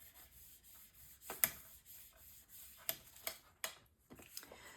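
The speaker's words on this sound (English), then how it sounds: "and then burnish this down." Quiet, close rubbing and scraping as a paper flap is burnished down on a mini album page, with several short strokes and taps over a faint background hiss.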